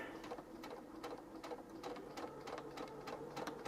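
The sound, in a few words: sewing machine stitching ripped denim jeans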